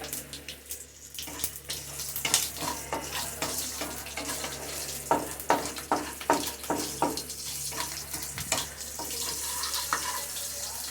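Slit green chillies frying in oil at medium flame, with a soft, steady sizzle and a string of sharp spatters and utensil clicks, fairly close but quiet.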